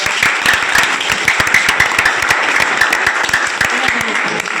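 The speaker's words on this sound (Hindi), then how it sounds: "थोड़ा तालियां आपको।" A crowd at a coaching class ceremony applauds a successful student, dense and loud continuous clapping that holds steady throughout.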